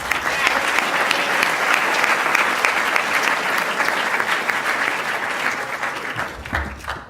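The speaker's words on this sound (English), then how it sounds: "One more round of applause." An audience at a 2019 school honors convocation claps steadily for about six seconds, a broad, full wash of hands that fades out before a short low thump at the end.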